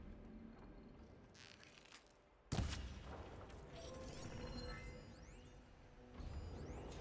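Gunfire as arrows are shot at a machine's arm coupling in Horizon Forbidden West, with a sudden loud impact burst followed by whooshing and mechanical combat noise, no talk over it.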